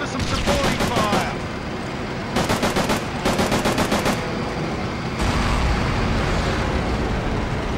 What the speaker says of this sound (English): Give us some supporting fire